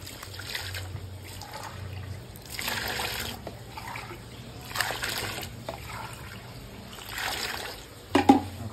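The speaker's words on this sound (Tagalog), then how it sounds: "Lagay tayo ng tubig, 4 na cup." Water poured from a cup into a bowl of monay bread dough ingredients, a soft trickling splash in several separate pours with quiet pauses between, ending in a few sharp knocks.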